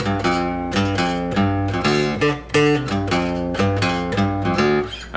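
Electric guitar plays a riff in drop D tuning: a swinging, repeated low-string figure with punchy note attacks, loud and close, played alone with no talking.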